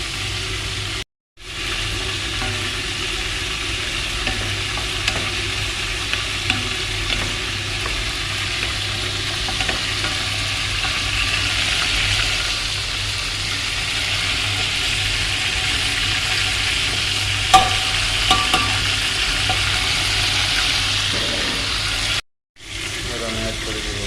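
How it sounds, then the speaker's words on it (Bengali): Chicken curry spices cooking down with ginger garlic paste, a steady broad hiss of frying with faint scraping and a low hum, near and continuous, briefly cut off at the start and end. "মশলা কষানো হলে"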